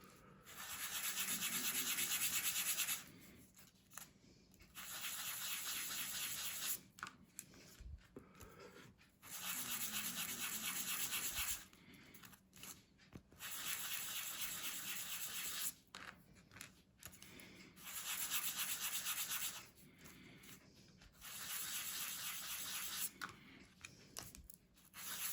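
A pendulum clock part is sanded by hand in repeated bursts of brisk, close scratchy rubbing, separated by short pauses, with no talking over it.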